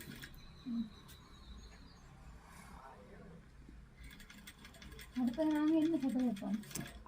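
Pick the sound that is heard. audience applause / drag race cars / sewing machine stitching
sewing machine stitching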